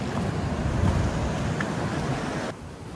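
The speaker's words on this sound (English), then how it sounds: "I think the waves come up here, it's all wet. Huge swell." Large ocean swell surging against a rocky coast, a steady loud roar of surf and wind that drops off sharply near the end.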